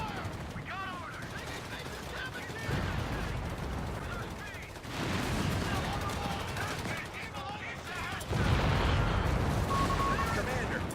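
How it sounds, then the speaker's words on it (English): Sustained battlefield gunfire in a Company of Heroes 3 multiplayer match: rattling machine-gun bursts and rifle shots layered with heavier explosive thuds, continuous and dense throughout, with in-game voice callouts mixed in. "Weapon team, under heavy fire!"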